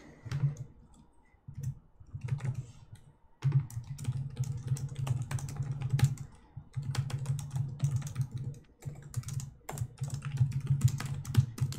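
Fast typing on a computer keyboard during a Monster Hunter World livestream: close, crisp clattering keystrokes in bursts with brief pauses, over a low steady hum.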